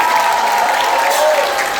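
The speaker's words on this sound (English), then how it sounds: "So let's give a round of applause to all the organizers to making this happen." Festival crowd at the ISKCON Toronto chariot festival applauding the organizers, a dense, loud, continuous roar of clapping with a tonal sound running beneath it.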